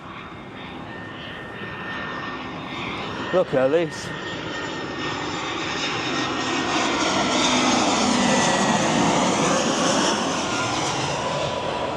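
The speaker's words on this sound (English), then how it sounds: "Here we go, there's a plane coming in." A fixed-wing airplane coming in to land roars steadily overhead, its engine noise swelling and building through the whole stretch, while a person speaks briefly early on.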